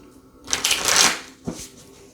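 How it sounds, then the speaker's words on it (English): Tarot cards being shuffled by hand: a close, crisp riffle of flapping card edges for about half a second, then a shorter second burst of shuffling. "Let's get a shuffle."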